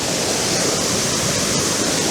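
A steady, full roar of falling water at Fforwdgrech Waterfalls in the Brecon Beacons, a dense continuous rush with no breaks and no other sounds.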